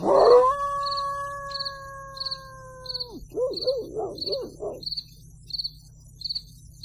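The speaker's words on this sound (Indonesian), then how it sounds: "Hanya terdengar gonggongan anjing saja." At night in a quiet housing complex, a dog gives long sustained howls, then a run of short yelping barks, while faint regular insect chirps pulse steadily in the background.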